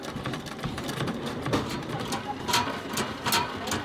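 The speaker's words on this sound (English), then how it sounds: "The pedal sewing machine allows the women to sew anywhere despite the poor access and high cost of electricity." A foot-pedal sewing machine at a women's training centre runs in a steady, rhythmic clatter of needle strokes, with sharper ticks recurring throughout and faint background voices.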